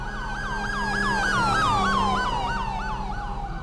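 A police car siren in a video game wails loud and close in rapid rising-and-falling sweeps, with the steady hum of the car's engine underneath and no talking.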